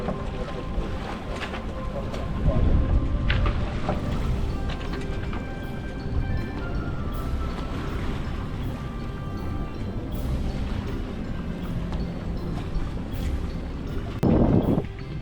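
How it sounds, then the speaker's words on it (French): Boat motor at full throttle on open water, a continuous low engine roar mixed with heavy wind buffeting on the microphone and water rush, with louder gusts near the start and end. "Mimi, Allez, donc c'est reparti, moteur à fond."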